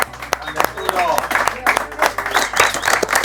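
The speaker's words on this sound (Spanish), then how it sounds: "despidamos con un aplauso a Arturo Núñez del Prado" A television studio audience claps to send off guest Arturo Núñez del Prado, a fairly loud, steady patter of hands with a voice talking over it.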